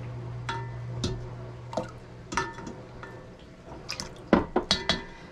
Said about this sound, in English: we're just gonna add 3 tablespoons of lemon juice